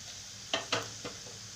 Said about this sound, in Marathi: आता हे मसाले आपण छान याला परतून घेऊ